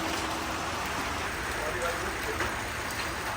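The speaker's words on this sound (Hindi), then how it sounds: "अब बारिश तो जा नहीं रही है" Monsoon rain pours steadily during a motorbike journey near Nashik, making a dense, continuous hiss at a constant level with no pauses throughout.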